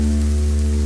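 Heavy rain pours down in a dense, steady hiss of broadband noise with a low constant hum beneath it, continuous through the short moment.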